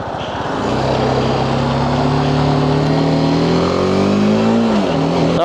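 Steady engine drone heard while riding, the pitch rising smoothly as the vehicle accelerates and then dipping, loud and continuous with no speech.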